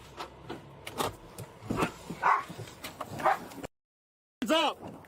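A police dog barks and yelps in sharp, repeated bursts during a chaotic arrest after a highway pursuit, fairly faint and mixed with shouting, with a brief silent gap before a louder final bark.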